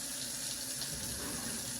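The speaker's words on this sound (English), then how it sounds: "I have to rinse the vegetables off, dry them." Kitchen faucet running water over vegetables being rinsed, a steady hissing stream at moderate distance with no pauses.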